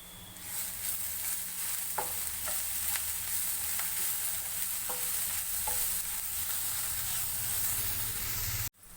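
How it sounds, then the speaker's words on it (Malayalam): Chicken curry masala with salt stirred in a hot pan for an old toddy-shop style curry, a constant close sizzle and hiss under occasional soft scraping knocks of the spoon, cutting off abruptly at the end. "ഇതിലേക്ക് ആവശ്യത്തിന് ഉപ്പിട്ട് ഇളക്കി കൊടുക്കാം"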